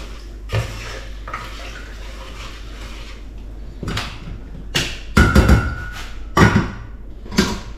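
Paprika being mixed into a mud crab dish in a pot, with scattered clanks and scrapes of a utensil against metal, sparse at first and then busier and louder, close by.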